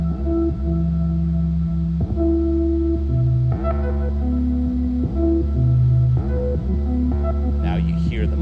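A DFAM analog synthesizer plays a droning, sequenced pattern of stepped tones with heavy pulse width modulation, loud and continuous, its pitches shifting every second or so and a faint sweep near the end.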